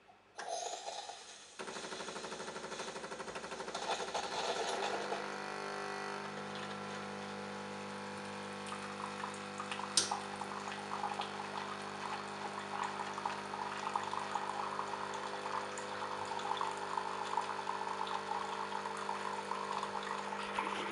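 A Tassimo coffee machine and a kettle heat water side by side. After a short start-up, a steady pumping hum with bubbling water runs for about twenty seconds, broken by one sharp click midway.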